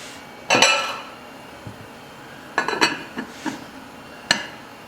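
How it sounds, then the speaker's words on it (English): A spoon clinks and scrapes against a metal pot of hamburger and cabbage soup in a few irregular bursts, close by, with quiet pauses between strokes. "We'll give it one final stir."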